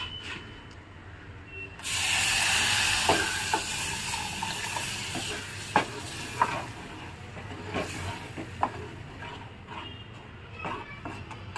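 Ground masala hits a hot pan for Bangda mackerel fish curry, bursting into a loud, steady hiss and sizzle after a quiet start, with several sharp clinks and scrapes of a utensil through the sputtering.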